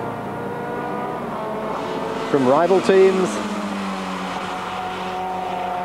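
Race cars circulating in the 1995 Spa-Francorchamps 24-hour race, a steady engine drone with one car's rising and falling whine sweeping past midway, while a commentator speaks over it.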